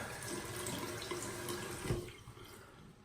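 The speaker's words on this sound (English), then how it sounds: "I'm gonna wet my face" Water running from a bathroom tap during a wet shave as a face is splashed, a steady close rushing hiss with light splashing that eases off near the end.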